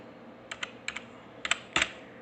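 Keys clacking on a computer keyboard while entering an Excel formula, a few sparse taps in small pairs and then a firmer double stroke, close and clear over a quiet room hum.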